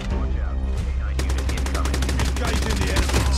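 M4 rifle in Call of Duty Mobile fires a rapid, sustained automatic burst, loud and close, starting after a brief stretch of game background sound; a voice talks underneath.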